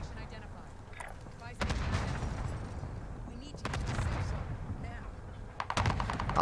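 Heavy gunfire from a combat shotgun and other weapons in a Warzone match, loud bursts of repeated shots in several clusters with dense rumbling booms beneath, continuous and close throughout.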